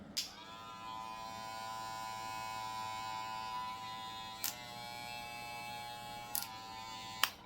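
A Wmark NG 119 full-metal hair clipper running at 7,000 RPM gives a steady, close, high-pitched electric buzz, broken by a few sharp clicks as the lever is worked.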